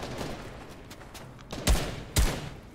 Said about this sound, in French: C'est des balles de PM je crois.